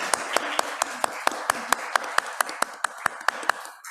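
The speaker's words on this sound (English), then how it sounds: "We can do one final round of applause" A small studio audience at the close of a webinar claps in a steady, even rhythm, roughly four to five sharp claps per second, fairly close and moderately loud, with no talking.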